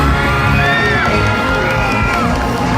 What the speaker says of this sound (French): je vous demande un tonnerre d'applaudissements pour Sora, s'il vous plaît